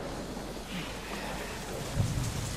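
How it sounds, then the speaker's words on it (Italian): A rainstorm in the video game Deadlight, with steady close rain hiss and a low rolling rumble of thunder that swells near the end, and no voices. "Damn storm. Maledetta tempesta."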